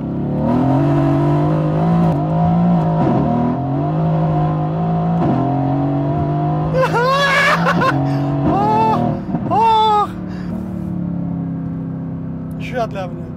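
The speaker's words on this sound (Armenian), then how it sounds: "Վայելեք գերագույն հաճույք Mercedes AMG GTS 670 ձիաուժ 7 աստիճան փոխանցումատուփ։" A Mercedes-AMG GT S with a 670-horsepower engine and seven-speed gearbox revs and accelerates, its loud engine note climbing and dropping through several gear changes while someone talks over it.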